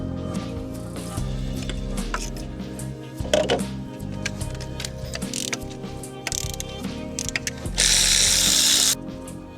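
A ratchet wrench clicks in short bursts while working on an Audi engine, close and crisp, with pauses, clanks of tools and a louder hissing or rushing burst near the end.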